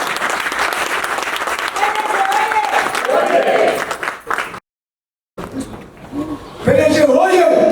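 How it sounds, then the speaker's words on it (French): Crowd applause at a party federation celebration in Senegal, loud clapping mixed with a speaking voice and crowd noise, a brief silent gap, then swelling cheers and voices. "Je voudrais que vous les applaudissiez."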